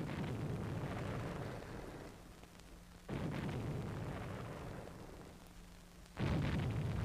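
Air raid bomb blasts in a 1962 Chinese war film about tank crews, heavy booming rumbles that swell and decay, with two sharp new impacts striking about three seconds apart over a continuous low roar.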